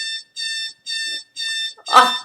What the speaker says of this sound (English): Let me turn my alarm off.